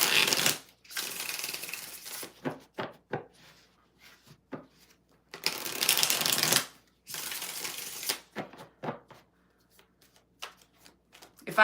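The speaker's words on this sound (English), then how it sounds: "2 more shuffles." Tarot cards being shuffled in several quick riffling bursts, each a few seconds long, separated by short pauses and scattered light taps, close and fairly loud.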